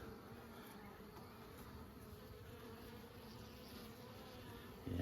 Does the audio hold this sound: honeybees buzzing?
yes